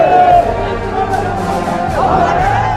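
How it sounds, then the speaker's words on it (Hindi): A large crowd gathers to bid a final farewell to a martyred soldier, a steady murmur of many voices and babble filling the air with no single speaker standing out. "शहीद सपूत को अंतिम विदाई देने के लिए हर तरफ भीड़ उमड़ पड़ी"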